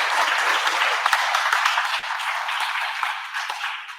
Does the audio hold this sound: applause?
yes